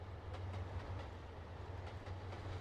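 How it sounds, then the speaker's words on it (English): A freight train pulling coal cars in Trainz Simulator 2 rumbles along with a low steady engine drone and a faint regular clickety-clack of wheels on rail joints, quiet and even throughout. "Pulling coal cars."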